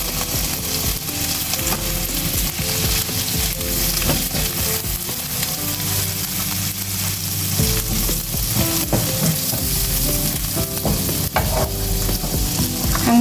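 Shrimp sautéing with garlic in a pan, a loud, dense sizzle and crackle that runs continuously with stirring scrapes mixed in, no talking over it.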